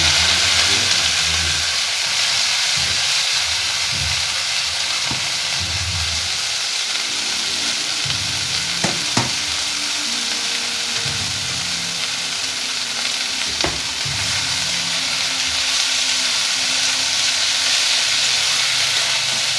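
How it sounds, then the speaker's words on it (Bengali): Vegetables tipped into a hot wok sizzle loudly and continuously, with stirring scrapes and a few sharp clatters of a utensil against the pan. "এদিকে হচ্ছে সবজি এবার পড়ে যাচ্ছে কড়াইতে"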